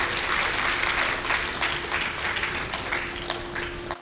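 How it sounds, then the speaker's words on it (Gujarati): An audience applauds at an arangetram, a steady wash of many hands clapping with a few sharper claps standing out. It holds for about four seconds at fairly close range, with no voices over it. "તો હું એમની માટે પણ એકવાર જોરદાર"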